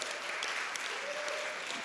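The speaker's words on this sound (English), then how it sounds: "give her a round of applause" Applause from a town hall crowd on public banking, a dense, steady patter of clapping hands filling the whole moment without pause.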